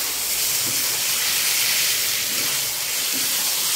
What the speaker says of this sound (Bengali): দেখো বন্ধুরা মাংসটা ভালো করে কষিয়ে নিচ্ছি